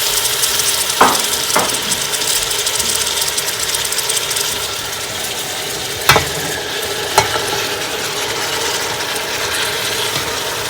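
Capsicum, chicken and spices fry in a pan with a steady, loud sizzle, broken by a few sharp clicks and scrapes from a stirring utensil knocking the pan.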